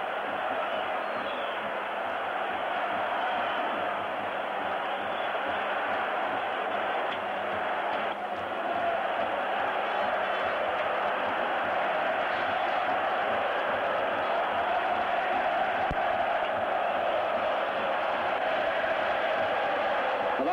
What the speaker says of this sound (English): People in the stadium standing and singing, as only an Italian crowd knows how.